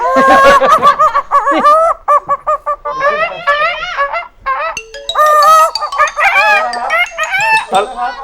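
A rooster crows repeatedly and loudly, mixed with clucking from hens nearby, the calls overlapping in a busy, close chorus.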